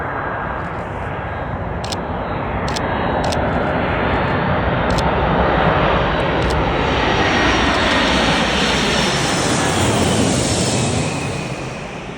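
Antonov An-124 Ruslan on approach to Rzeszów airport at dawn: a loud, broad engine roar that swells as the big aircraft passes, with a few sharp clicks near the start, then eases off toward the end.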